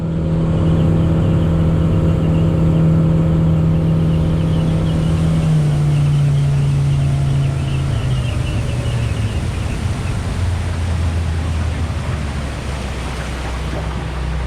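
Steady, loud vehicle drone from a ride out from Ross Lake, a sustained engine hum with low tonal notes that shift in pitch partway through as it changes speed, with no voices over it.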